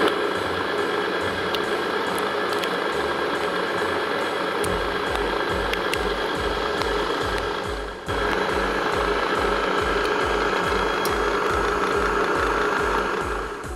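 Steady mechanical drone and rhythmic low clanking of an elevator hoist lifting up through the Thrihnukagigur volcano shaft in Iceland, continuous and fairly loud, with a brief dip near the middle.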